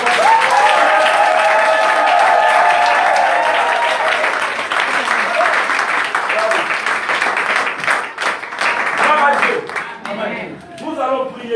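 A church congregation applauds as an offering, dense clapping mixed with cheering voices that gradually thins into scattered claps and talk toward the end.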